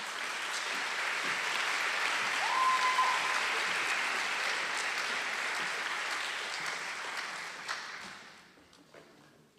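Applause from the audience at a nursing and health sciences school hooding ceremony, honoring communication sciences and disorders honors students; steady, dense clapping from a large crowd that swells briefly, then tapers off near the end.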